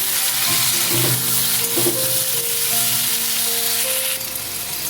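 Grated ginger hitting a hot pan while cooking a dahi potato curry, a loud steady sizzle and crackle with occasional stirring scrapes, dropping slightly near the end, no voices.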